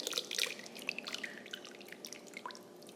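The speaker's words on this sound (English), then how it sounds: "Now we're gonna pour our sauce over our chicken" A thick sauce of soy, honey and hoisin drips and splashes onto chicken in a slow cooker, soft scattered wet drops and dribbles, faint and close.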